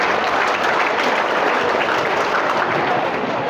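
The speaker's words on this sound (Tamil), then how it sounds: "எழுந்து நின்று கைத்தட்டுங்க" Audience applause fills a school event at Sivaganga Mannar Higher Secondary School's Education Development Day celebration: dense, steady clapping that holds strong for the full stretch without a break, with no voices rising above it.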